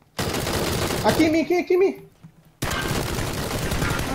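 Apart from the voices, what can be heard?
gunfire in video game PUBG Battlegrounds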